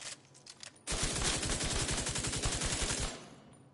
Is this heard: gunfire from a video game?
yes